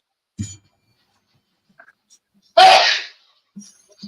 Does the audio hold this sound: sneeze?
yes